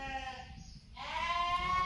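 Sheep bleat in a sorting pen on a farm, ewes and lambs penned apart ahead of clipping day, with several overlapping harmonic bleats, one fading out and a louder one taking over, fairly close and steady.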